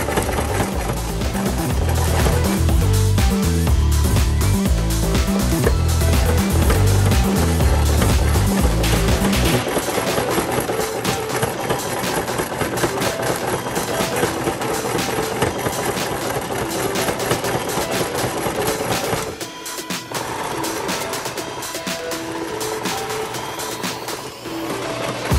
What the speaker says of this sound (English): I then move over to my sewing machine and fold 2 inches over on the longer straps and sew the ends.